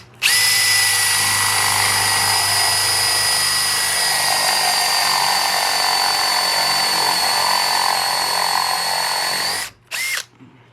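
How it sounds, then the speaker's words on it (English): A spade bit drills a hole in walnut with a loud, sustained, steady high whine from the power drill, close up, ending with a brief stop and a short second burst. "We're just going to cut a little hole in here and see what it measures"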